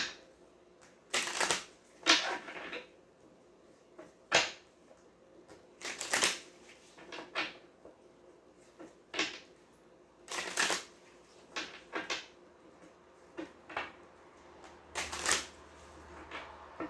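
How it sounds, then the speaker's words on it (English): Bursts of tarot cards being shuffled, riffling in quick flurries separated by short pauses, close and crisp, repeating about a dozen times with no talking. "One more shuffle, and we'll cut them."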